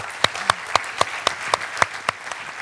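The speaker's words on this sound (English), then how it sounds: "give a big round of applause to our panelists" Audience clapping for a panel at a conference session, a sparse, evenly spaced run of claps heard close and moderately loud, with no talk over it.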